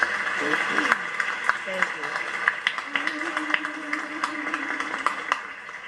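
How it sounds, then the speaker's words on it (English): Scattered hand claps from an audience greeting an a cappella group, a handful of sharp, separate claps spread across the stretch while a person speaks over them. "Let's give them a round of applause"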